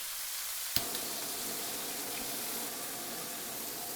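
A blowtorch roars steadily against browned meat, a broad constant hiss starting with a sharp click of ignition and holding at an even, moderate level.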